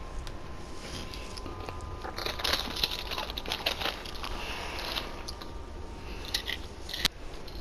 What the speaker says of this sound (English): crunching on those Takis?